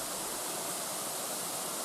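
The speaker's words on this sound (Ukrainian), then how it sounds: "шуміти, клекотіти, гомоніти, рокотати тут може лише водоспад" The Zhenetskyi Huk waterfall, a vertical mountain cascade, roars as a steady, dense broadband rush of falling water heard close by and alone.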